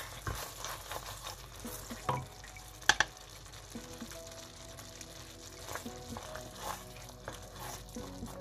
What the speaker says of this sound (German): Runterrühren